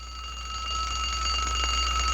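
An alarm rings with a steady, high electronic tone that holds continuously over a low background hum, fairly loud and unbroken, with no voices.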